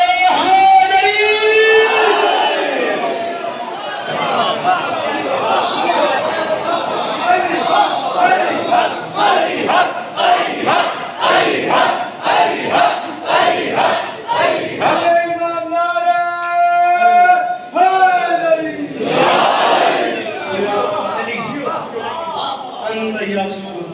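A majlis crowd at an imambargah chants slogans in loud rhythmic call-and-response bursts, with many voices shouting together and a leading voice between them, sustained throughout.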